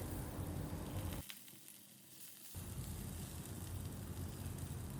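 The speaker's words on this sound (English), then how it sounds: "we will flip the mushrooms one by one so as to saute them golden brown from both the" Mushrooms sauté in a pan with zucchini, a soft steady sizzle that drops away briefly in the middle as pieces are flipped, then resumes, with no talking.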